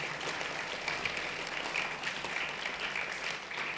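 An audience in a hall claps continuously, a thick sustained wash of applause at steady volume, moderately distant and with no voices on top.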